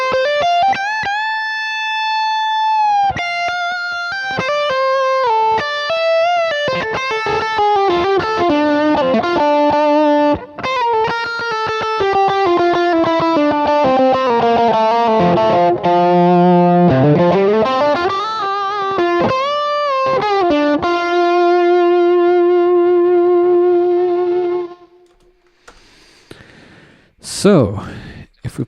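Distorted electric guitar plays a sustained solo of bending, held notes over a steady loud backing, dropping away near the end to quieter scraps of sound.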